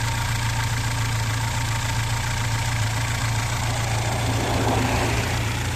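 A car engine running steadily with a blown cylinder head gasket, a constant loud idle-like drone with a low throbbing hum that holds unchanged throughout, heard alone with no voices.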